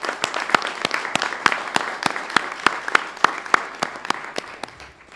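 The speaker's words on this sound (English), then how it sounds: "giving a very big round of applause to the panelists and to the ministers" Audience applause for panelists and ministers at a ministerial roundtable on ICTs and emergency telecommunications, a steady round of many hands clapping with sharp distinct claps over a dense crowd wash, fading slightly at the end.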